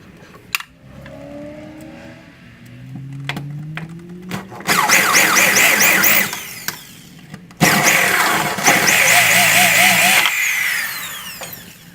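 A power tool whines and grinds cutting through metal on a 280ZX car in two long, loud bursts, each lasting a couple of seconds, after quieter clanks and hums.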